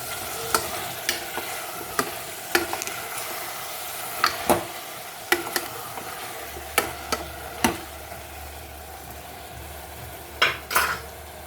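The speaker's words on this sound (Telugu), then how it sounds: "ఇప్పుడు బాగా ఒకసారి మిక్స్ చేసుకుందాం" A spoon scrapes and clinks repeatedly against a pan as mango pieces are stirred into drumstick curry, sharp irregular knocks over a faint sizzle, close and without talk.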